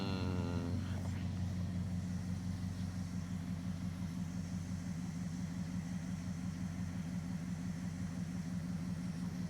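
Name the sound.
Dodge Charger engine revving down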